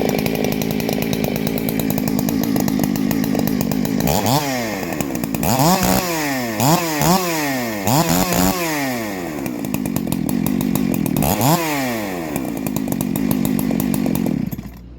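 A clone Husqvarna 372XP chainsaw fitted with a new muffler runs loud and close, holding a steady idle between several sharp throttle blips that rev up and fall back.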